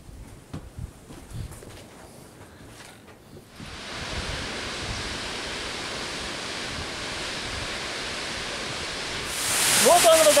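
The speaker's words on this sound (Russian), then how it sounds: "Вот он, водопад Девичьи Косы." Roaring waterfall Devichi Kosy in the Prielbrusye mountains, a steady broad rush of falling water that grows louder partway through as it is approached, with faint footsteps and movement early on.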